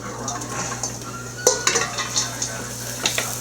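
Garlic and mirepoix fry in a pan with a soft, steady sizzle. Sharp metallic clinks and scrapes of a utensil against the pan break through it at irregular moments.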